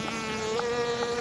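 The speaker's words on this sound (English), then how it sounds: "The sound of the buzzing is really unique. It's just kind of a quiet, steady hum." Honeybees buzz inside a bee hut on a Colorado ranch, a quiet, steady, close hum with a sustained droning tone that holds evenly throughout, with no voices.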